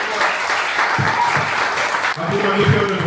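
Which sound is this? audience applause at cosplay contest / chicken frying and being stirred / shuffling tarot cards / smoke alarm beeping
audience applause at cosplay contest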